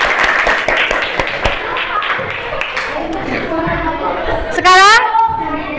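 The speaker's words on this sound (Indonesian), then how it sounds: "Tepuk tangan untuk kita semua." A school class bursts into applause in a classroom, a dense patter of many hands clapping at close range that fades into chatter and a voice speaking.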